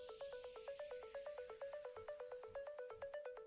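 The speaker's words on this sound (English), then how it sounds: "Can you guys hear my Discord notification" A Discord notification chime repeats rapidly in a fast, even, ringtone-like pattern, loud and close, sounding alone for several seconds without any voices.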